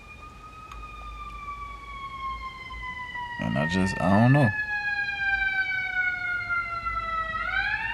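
An ambulance siren wails close by and slides steadily downward in pitch as it passes, loud and sustained across the whole stretch, with someone briefly talking over it partway through.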